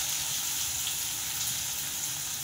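Chopped onion drops into hot oil seasoned with cumin, curry leaves and chillies for a Kolhapuri dal tadka, producing a loud, steady, close hiss and sizzle that continues evenly throughout.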